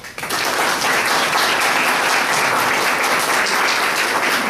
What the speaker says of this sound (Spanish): para quien pido por favor un aplauso